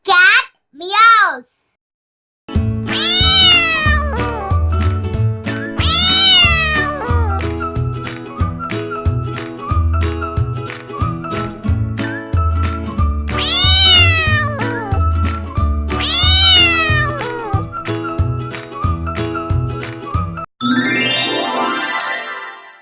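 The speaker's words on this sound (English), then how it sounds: "Cat meows." A cat meows repeatedly in clear, close, rising-and-falling cries over a steady, jingly musical backing, with a voice heard at the start and end.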